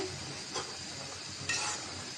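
A faint sizzle of sweet potato leaves stir-fried with shrimp in a pan, with two brief scraping stirs breaking the steady, quiet hiss.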